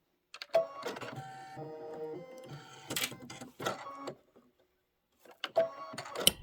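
An embroidery machine sews a placement stitch for an ice cream bar quilt block on a bench pillow, giving a steady mechanical whirring hum in several runs broken by short pauses, close and fairly quiet.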